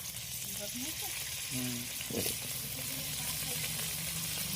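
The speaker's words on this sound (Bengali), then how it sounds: "এবার আলুগুলো আমি ভেজে নিচ্ছি" Potatoes fry in oil in a home kitchen, giving a steady, close sizzle with brief clinks and stirring noises over it.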